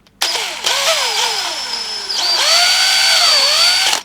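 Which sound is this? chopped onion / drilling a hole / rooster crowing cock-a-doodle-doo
drilling a hole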